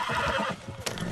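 A horse in the Red Dead Redemption 2 video game neighs loudly and close for about a second, with a hoof sound or thud near the end and game ambience behind it.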